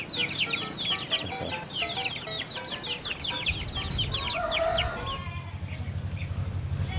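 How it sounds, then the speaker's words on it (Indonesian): Village chickens clucking and chattering in a busy cluster close by, with rustling and background rural noise, where residents raise hens that follow people around. "Ini di sini ayam pada ngikut-ngikut"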